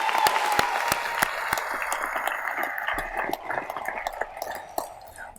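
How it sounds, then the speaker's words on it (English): Graduation audience at a high school senior ceremony breaks into sustained applause, dense clapping with occasional sharper individual claps and a faint cheer, steady and loud throughout. "Can we get a round of applause for that?"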